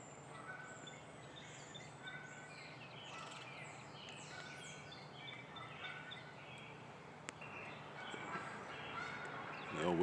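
Geese honk faintly in the distance outdoors on an early spring morning, their calls repeating over a quiet background with scattered chirps from other birds.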